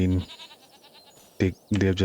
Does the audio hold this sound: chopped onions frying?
no